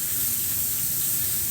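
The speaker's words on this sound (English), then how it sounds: "That's my chicken. I'm frying." Chicken frying in a pan, a loud, steady hiss of spattering oil that continues without a break, with no voices over it.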